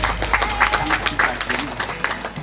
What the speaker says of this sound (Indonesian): Tepuk tangan dulu Mbak Felin.